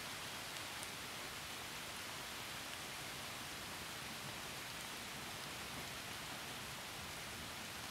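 Steady, dense rain hisses evenly throughout a stormy night, a faint, continuous wash of falling water with no pauses, talk or distinct thunder.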